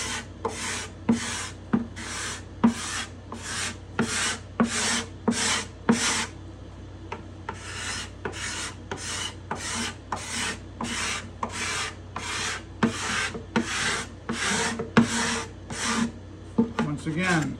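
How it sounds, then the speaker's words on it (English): A hand scraper scrapes raised fuzz from a wooden guitar top in a steady run of about two dozen close, rasping strokes, each a bright burst with a short gap, with a brief pause near the middle. "I'm scraping off the fuzz"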